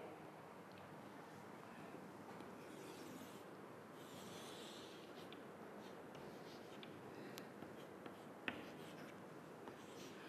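Pen drawing a labeled diagram on paper during an economics lesson, a continuous close scratching and scraping with small strokes and a few faint clicks, heard on its own without speech.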